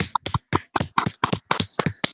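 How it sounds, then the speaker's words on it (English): A handful of online meeting participants clap into their microphones, a crisp, close run of distinct separate claps spaced evenly with brief silences between them. "just give these ladies a round of applause"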